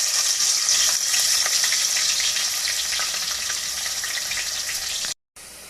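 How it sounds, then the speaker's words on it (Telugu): Chopped onions fry in hot oil in a pan for an egg pulusu, giving a loud, steady crackling sizzle close up that runs throughout and then cuts off briefly at the end. "ఆయిల్ హీట్ అయింది ఫ్రెండ్స్, ఆనియన్స్ వేసేసుకున్నాను."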